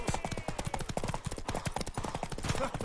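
Rapid hoofbeats of a galloping horse in a video game, a steady drumming clip-clop that runs continuously and loudly throughout with no speech over it.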